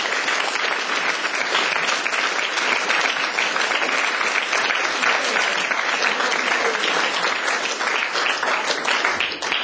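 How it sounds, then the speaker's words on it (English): A conference audience gives sustained, even applause for the speakers, a loud continuous clatter of many hands that holds steady without pause or voices. "give a great hand to our speakers for the excellent contribution they have given"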